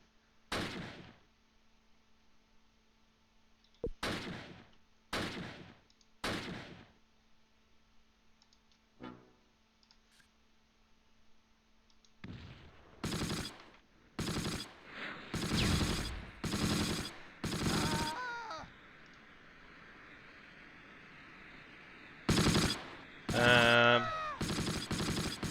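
Gunfire and machine-gun bursts from the Close Combat war game, set in 1944 fog: a few sharp isolated shots, then a run of dense rapid bursts close by, with a faint voice and chirpy clicks between.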